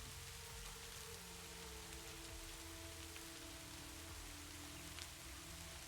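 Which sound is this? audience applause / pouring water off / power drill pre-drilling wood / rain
rain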